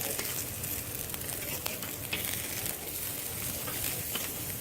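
Tandoori chicken pieces sizzle steadily on a hot grill, a continuous dense crackle and hiss with faint occasional pops, close and even throughout.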